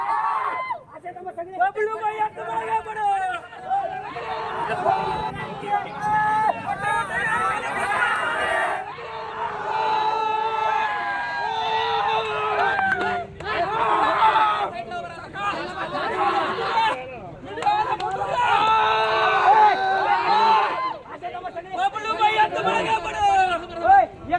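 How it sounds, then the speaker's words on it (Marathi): A crowd celebrates a village sarpanch election result in Massajog, with loud cheering, shouting and excited chatter from many voices close by, rising and falling throughout. "निवडणुकीच्या निकालानंतरचा जल्लोष आपण पाहतोय"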